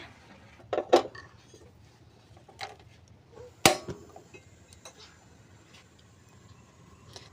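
A pressure cooker pot of beef knocks down onto a stove with a few sharp metallic clanks, one loud clack midway and lighter taps and scrapes around it in a quiet kitchen.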